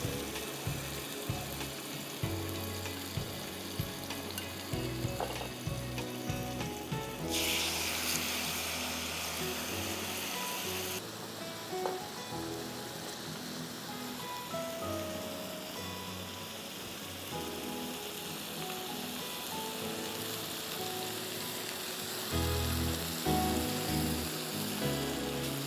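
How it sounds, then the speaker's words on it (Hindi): Chicken pieces sizzle steadily on a grill pan for a sandwich, a continuous crackling hiss with a brief louder burst as more pieces go down, heard alone and fairly close. "इसको हम ग्रिल करेंगे 10 minutes, 5 minutes on each side."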